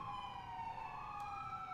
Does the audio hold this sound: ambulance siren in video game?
yes